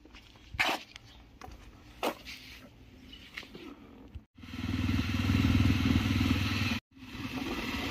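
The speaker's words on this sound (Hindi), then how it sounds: "बाइक उठाते हैं, देखते हैं कैसी रनिंग होती है इसकी" A Jawa motorcycle's engine runs, at first faint behind scattered knocks and clatter, then swelling to a loud, close, steady rumble that breaks off briefly before resuming.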